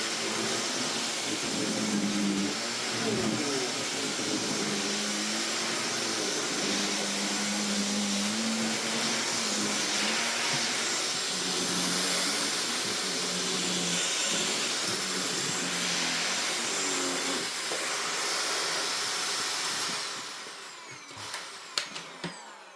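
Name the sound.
Shark NV681UK-T vacuum cleaner running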